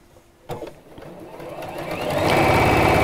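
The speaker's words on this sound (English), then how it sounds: "And I'm just going to sew." Sewing machine stitching fabric close to a cord, starting with a clunk and building into a fast, steady, loud whirring hum that holds to the end.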